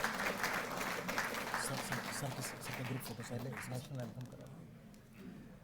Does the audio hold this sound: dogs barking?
no